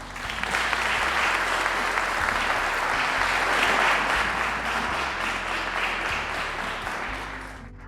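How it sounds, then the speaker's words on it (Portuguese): A large audience applauds steadily and loudly at a municipal council ceremony honouring administration professionals, dense clapping sustained throughout without pause. "Nossos sinceros aplausos."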